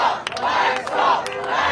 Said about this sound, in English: Round of applause is coming